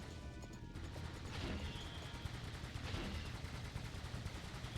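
Gunfire in a PS2 buddy-duo action game, repeated sharp shots and impacts over a dense, steady game soundtrack, with no talking.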